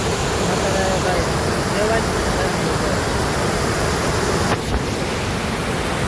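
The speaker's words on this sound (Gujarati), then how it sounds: "પાણીનો અવાજ જ એટલો બધો ચાલુ છે" Water roars over the overflowing Shetrunji Dam near Palitana in a loud, constant, close rush of white noise that stays steady throughout and drowns out everything else.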